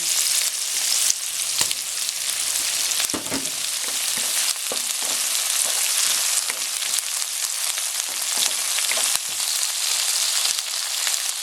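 Shrimp paste (bagoong) sautés in a pan with a constant close, loud sizzle and occasional stirring scrapes throughout.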